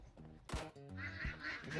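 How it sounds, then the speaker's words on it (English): Ducks quack in a few raspy bursts at a distance, mixed with low rumbling noise close by. "Neighbor's ducks are going."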